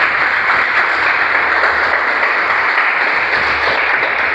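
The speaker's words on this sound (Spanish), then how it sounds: "Apláudenle al Señor si tienen ganas de aplaudirle." A church congregation applauds in a dense, steady roar of clapping that holds evenly for several seconds, loud and close, with no voices standing out.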